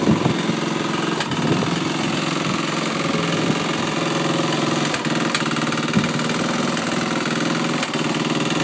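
A 2007 Vento Phantom turbo motor scooter engine idles steadily while running rich, a close, continuous putter with a brief revving swell near the start and no talking.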